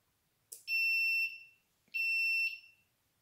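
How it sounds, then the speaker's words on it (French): On a power network fault simulation model, an alarm buzzer sounds two piercing electronic tones, each lasting under a second and separated by a short gap, clear against near silence. "Ici, nous pouvons entendre l'alarme et le voyant rouge qui vont permettre d'en informer le conducteur du réseau"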